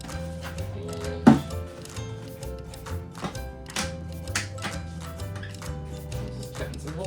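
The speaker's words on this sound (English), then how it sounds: "Cutting some drainage holes in the bottom. So I'm just using an X-Acto knife." An X-Acto knife cuts drainage holes in the bottom of a plastic container, giving scattered scraping clicks and brittle taps, one sharper snap early on, with faint musical tones underneath.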